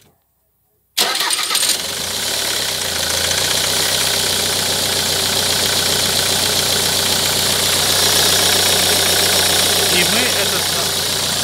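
A Ford Mondeo 3 2.0 TDCi engine turns over and settles into a steady, loud diesel idle that runs continuously after a brief word is spoken.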